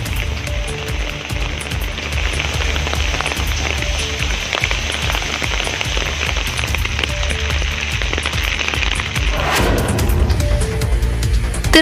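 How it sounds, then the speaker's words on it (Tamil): Heavy evening rain pouring in Kanyakumari district, a dense, steady hiss of drops hitting surfaces that thickens slightly toward the end, loud and continuous with no voices. "இதேபோல் கன்னியாகுமரி மாவட்டத்திலும் மாலையில் கனமழை கொட்டியது."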